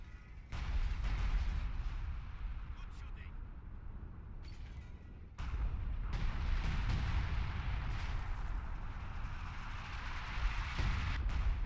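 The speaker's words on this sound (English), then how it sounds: "major artillery going down" Heavy artillery barrage in a World War II strategy game over Caen, repeated deep booms and rolling rumble at a moderate distance, layered with crackling impacts and scattered gunfire.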